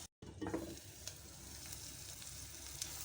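Tomatoes and spices fry in a pan for a chicken kofta potato curry, a faint, steady sizzle with a brief stirring sound near the start.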